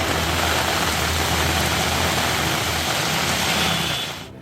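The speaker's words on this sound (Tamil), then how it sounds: "கடந்த 24 மணி நேரத்தில் மாநிலத்தின் பல்வேறு பகுதிகளிலும் மிக கனமழை" Heavy rain pours during flooding in Gujarat, making a dense, loud, continuous hiss of water that holds steady and then fades off at the end, with no voices.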